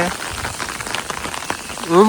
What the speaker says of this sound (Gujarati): જબરે છાંટે વરસે હો ભાઈ. વળી ધીરો પડી જાય વળી રેડું આવે